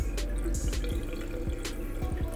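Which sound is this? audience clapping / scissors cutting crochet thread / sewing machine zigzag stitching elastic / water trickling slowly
water trickling slowly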